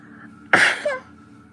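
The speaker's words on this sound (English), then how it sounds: "Oh my god, I'm gonna sneeze." A single sudden human sneeze, loud and close, a sharp explosive burst with a brief vocal tail over a quiet room hum.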